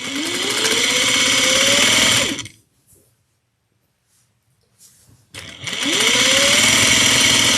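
A sewing machine backstitches then runs a 5/8-inch seam along the bottom of a tote bag, a loud close motor whine rising in speed, pausing in near silence for a few seconds, then starting up again.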